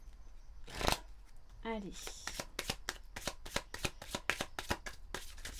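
Oracle cards are shuffled by hand in a rapid, crisp riffle of repeated flicking taps, close and clear, preceded by a brief soft rustle and a single short spoken word.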